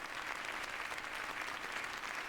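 Dense, steady applause from a quiz night audience, many hands clapping together in a continuous, even wash of sound.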